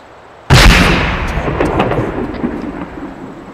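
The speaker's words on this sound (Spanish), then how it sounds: "¿Ven las explosiones?" A single sudden loud explosion blast in the video game Arma 3 hits, then rolls into a long rumbling decay with scattered crackles as it fades.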